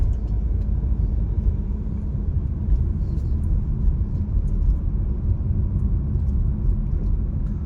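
A car drives along a street near Dickerson in Detroit, Michigan, with a steady low engine and road rumble from inside the cabin for the whole stretch, no talk.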